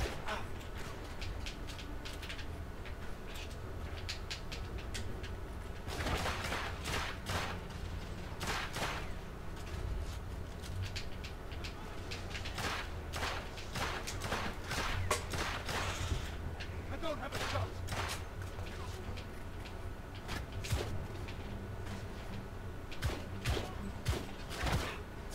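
Gunfire in the video game The Order: 1886: repeated sharp shots and bursts ring out over a steady busy background of game sound, loud and close, with voices mixed in.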